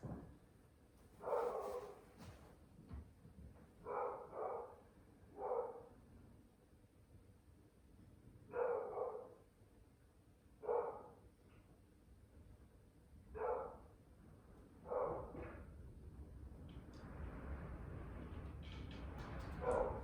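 Dog barking repeatedly at a distance, about ten separate short barks spread unevenly across a quiet room, followed by a rise of soft broadband noise near the end.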